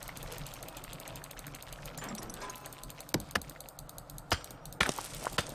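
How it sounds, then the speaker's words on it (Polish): Stones being broken in the god game Godus: steady mechanical rumbling with several sharp, separate knocks and cracks toward the end, no talking. "Tutaj też zbijamy im kamienie"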